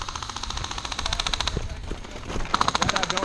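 Airsoft guns firing in bursts of rapid sharp clicks at an outdoor airsoft game, two quick volleys with a pause between, while people call out nearby.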